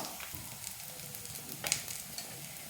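Dosa frying crisp in a pan over a low flame, a quiet steady sizzle with faint crackles and small pops, heard alone without talk.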